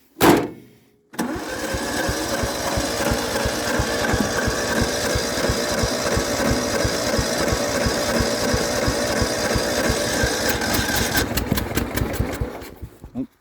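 A Kubota T1570 tractor's Kohler engine starts from cold after a brief cranking burst and short pause, then runs in a steady, loud, close idle with a rapid rhythmic chug that stays even until it is shut down near the end.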